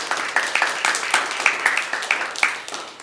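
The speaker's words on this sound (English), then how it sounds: "big round of applause for having rules." Modest audience clapping during a live body-language talk show, with distinct irregular claps standing out over a thin background, fairly close and moderately loud.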